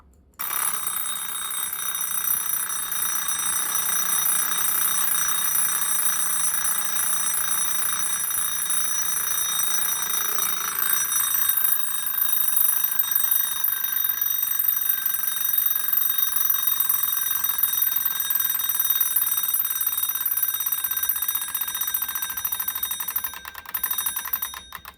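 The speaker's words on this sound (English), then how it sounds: "this clock has a peculiarity in that you can ring it by turning that knob" A Soviet Slava bird alarm clock rings continuously, a bright, steady metallic bell clatter at close range that holds at full loudness without pause, with no voices over it.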